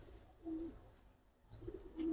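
Pet racing and flying pigeons of the Giribaz breed, kept for sale, give soft low cooing calls in two short bursts against faint background noise.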